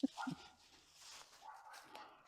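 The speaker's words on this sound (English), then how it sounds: "Thank you for heckling me, dog." A dog barks outdoors at a disc golf course, giving two or three quick, fairly near yips at the start, then a softer whimpering tone under faint background noise.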